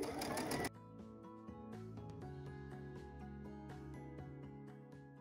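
Sewing machine stitching quilt binding, a steady mechanical whir with a rapid repeating stitch rhythm that runs continuously, close and moderately loud, starting after a brief louder burst at the very beginning.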